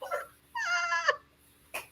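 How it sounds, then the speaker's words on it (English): A kitten meows twice up close, a short call followed by a longer drawn-out one, and then gives a brief chirp in a quiet room. "He's a crazy cat."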